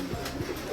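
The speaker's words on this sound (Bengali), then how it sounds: "এই যে দেখো জাক পায়রাটা ডাকছে।" A jak pigeon coos indoors among other pigeons, a soft low murmuring call pulsing a couple of times in under a second, close and quiet.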